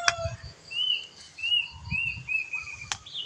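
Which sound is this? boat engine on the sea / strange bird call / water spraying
strange bird call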